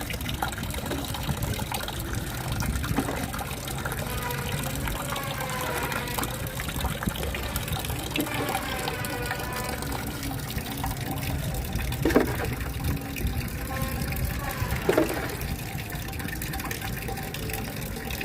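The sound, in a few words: water poured onto plants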